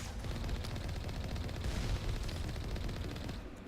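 Alliance heavy turrets fire in the game Mass Effect, a rapid, sustained barrage of heavy automatic shots rattling continuously at a distance, fairly quiet overall and easing slightly at the end.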